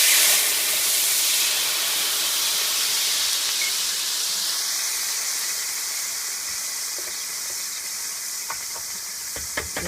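White wine hitting a hot pan on medium heat to deglaze it, a loud, bright sizzle and hiss that bursts up at once and then slowly settles into a steadier, slightly softer frying hiss with a few faint clinks near the end.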